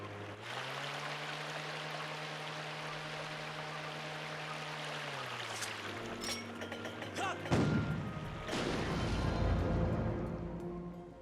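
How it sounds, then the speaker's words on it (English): Ship cannon fire in Zelda Skyward Sword HD on the Lanayru Sand Sea, heard as a few heavy booms over a steady engine drone, the blasts clustering toward the end of the stretch. "Must pursue and keep pounding with the cannon."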